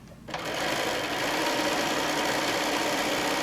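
Sewing machine stitching through quilt layers made from layer-cake fabric squares, a steady, continuous whirring drone that starts after a brief quiet moment and runs loud and unbroken.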